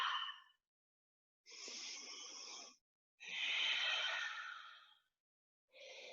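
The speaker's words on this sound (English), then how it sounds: "Take a few big breaths in and out." A person takes slow, deep breaths in and out, three long airy inhales and exhales in a steady rhythm, close and soft, with no talk.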